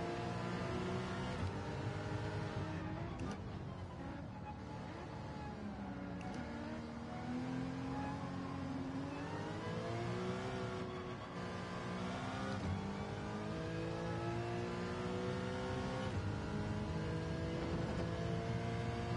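A GT4 race car accelerating off the line at Interlagos in the Gran Turismo racing game, its engine revving continuously with rising and falling gear-change sweeps, loud and steady with no talk.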